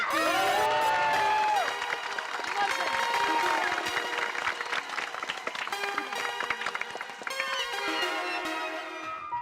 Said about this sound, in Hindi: एक बार हमारे माननीय पत्रकार पोपटलाल जी के लिए जोरदार तालियां हो जाए